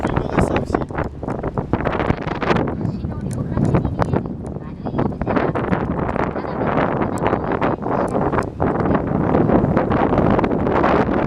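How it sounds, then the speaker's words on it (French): Strong gusty wind outdoors in Japan buffets the microphone, rumbling and roaring in waves, with a voice speaking intermittently beneath it. "J'espère que vous m'entendrez sur la vidéo car il y a quand même beaucoup de vent"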